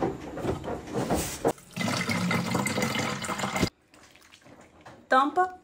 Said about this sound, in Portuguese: Completa com água.